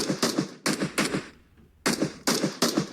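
Automatic gunfire in the mobile battle-royale game PUBG Mobile, loud sharp shots arriving in several quick bursts separated by short pauses, with a brief lull in the middle.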